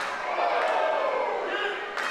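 A hot, loud crowd cheering at a wrestling main event, a sustained roar of voices in an arena with a brief sharp impact near the end.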